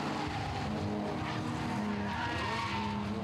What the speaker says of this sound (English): The handicap race, race cars all over the racetrack.